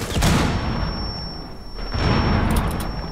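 A frag grenade blows up in a video game, one loud booming burst that rolls on for the whole few seconds, with a second swell partway through, close and dominant with no talk over it.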